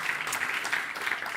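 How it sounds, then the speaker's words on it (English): Audience clapping at a European startup prize ceremony for mobility, as a silver winner is honoured; a steady, dense wash of many hands throughout, moderately loud and unbroken. "you can clap for him"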